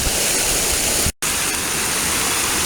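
The Ganges river flowing during a water ritual, a dense steady rush of water close by, broken once by a brief complete dropout before continuing unchanged.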